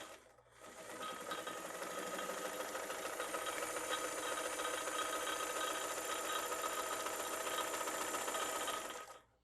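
A vintage Kenmore sewing machine runs steadily as it zigzag stitches through heavy layers of fabric, a continuous close mechanical whir with a fast, even rhythm and no voices.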